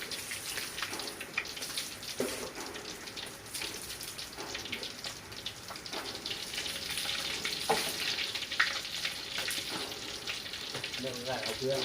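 Rice-field crabs fry in hot oil, giving a steady crackling sizzle with occasional stirring clinks and scrapes, close and moderately loud, with a voice talking faintly in the background.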